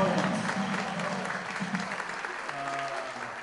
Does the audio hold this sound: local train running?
no